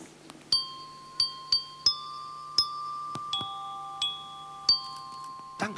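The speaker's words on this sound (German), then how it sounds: "dass wir mal alle hören, wie dieses Glockenspiel klingt?" Glockenspiel played at the front of a children's Advent play-along concert, ringing out the opening notes of a song: a short melody of bright, sustained metal tones struck one at a time, close and clear, with faint room noise.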